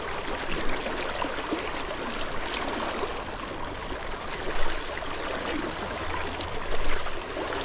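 A river flowing steadily in a broad, continuous wash of water noise during summer steelhead fishing, fairly loud and close with small surges, no talking.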